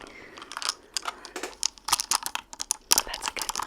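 Keys and buttons pressed close up for ASMR, a dense run of sharp little clicks and crinkly taps in uneven bursts, loud and near with no talk.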